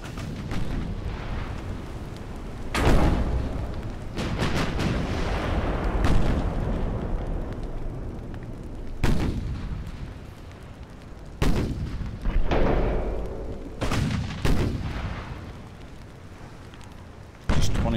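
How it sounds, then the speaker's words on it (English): A 12-inch naval gun fires in the warship game Ultimate Admiral: Dreadnoughts, heard as several loud, deep booming blasts spaced seconds apart over a continuous low rumble of battle, close and heavy, with no voices. "25 shells left on that rear 12-inch gun"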